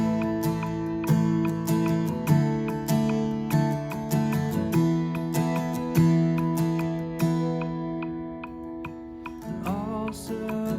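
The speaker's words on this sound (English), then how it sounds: "you should emphasize that rhythm in your guitar playing" Guitar strummed in a steady rhythm, chords ringing with regular accented strokes, played alone and clearly up close.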